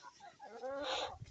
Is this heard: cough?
no